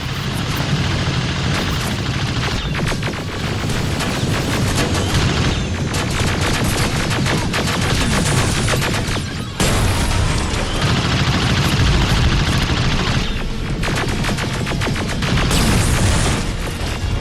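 Dense gunfire in Terminator Resistance, loud, sustained volleys of shots and booming impacts that keep rolling with only a brief dip, a continuous battle din.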